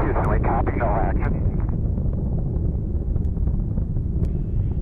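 Space Shuttle Atlantis' main engines roar steadily through launch ascent, a dense, continuous low rumble with wind buffeting, as a radio voice talks over it.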